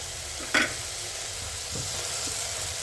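Softened onions sizzle steadily in a pan as chili powder goes in, with a brief clink or scrape of a spoon early on and a few soft stirring sounds under the continuous frying.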